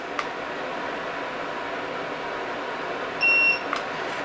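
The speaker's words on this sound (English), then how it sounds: "And you get a lot of beeps" A GUTA tire pressure monitor in a camper gives a short, steady electronic beep tone after its code button is held, with brief clicks before it, over constant background hiss.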